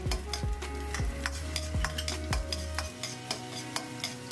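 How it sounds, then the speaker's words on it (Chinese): Scallions and ginger sizzle in hot oil in a wok for a spicy bear's-paw tofu, with a spatula scraping in quick rhythmic strokes about twice a second under a continuous close sizzle, then the stirring stops. "葱姜炝锅"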